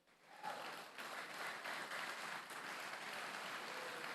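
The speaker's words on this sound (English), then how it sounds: "Give applause to them." Sustained applause from a crowd at an esports grand final swells in within the first half second and holds steady, dense and evenly loud throughout.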